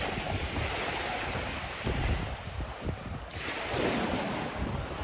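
Sea waves wash onto a Danish beach on a fresh morning, with steady wind buffeting the microphone; a continuous broadband roar of surf swells and recedes throughout, with no one speaking.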